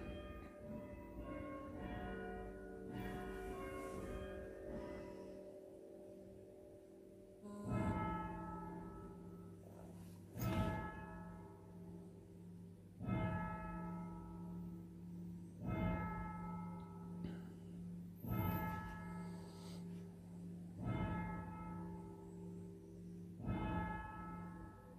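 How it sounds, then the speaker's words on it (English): Church bells ring out in slow, regular strikes roughly every two to three seconds, each toll resonant and lingering, with a sustained hum beneath. "We'll wait for the bells."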